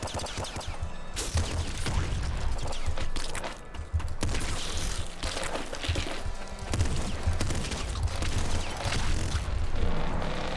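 Dense, continuous combat noise from the video game Nuclear Throne, with booming corpse explosions and crackling bursts layered throughout, loud and busy with no pauses.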